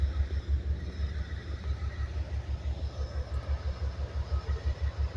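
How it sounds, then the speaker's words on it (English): A Norfolk Southern mixed manifest freight train rolls past in Stockbridge, Georgia, on a winter night, a steady, rhythmic low rumble of wheels thumping over the rails throughout. "A freight train right here."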